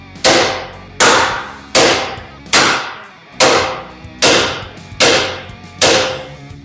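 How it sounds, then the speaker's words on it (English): Eight loud, sharp metallic blows from a big hammer strike a stuck part while removing a vehicle's rear axle, at a steady, roughly one-per-second rhythm, each ringing briefly before the next whack. "I'm gonna give it a couple more good solid whacks with the big hammer"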